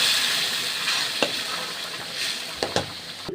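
Onions fry in a pan for Egyptian koshari, giving a steady close sizzle with scattered sharp pops and stirring clicks throughout, and no one speaks.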